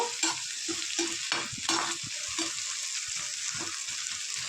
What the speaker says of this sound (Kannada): ಇಷ್ಟನ್ನು ಹಾಕಿ ಚೆನ್ನಾಗಿ ಫ್ರೈ ಮಾಡ್ಕೊಂಡ್ಬಿಡೋಣ